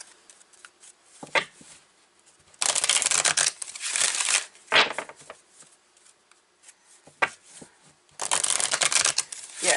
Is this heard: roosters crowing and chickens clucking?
no